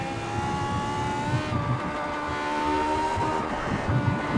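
A race car at the Phillip Island circuit, hard on the power with the engine pulling a steady rising drone, loud and close from the cockpit, with some rumble beneath.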